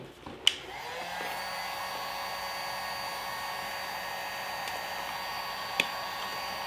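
A heat gun warms carbon fiber vinyl wrap on BMW F30 interior trim, blowing a steady, fairly quiet whine with a sharp click as it starts and another brief tap later.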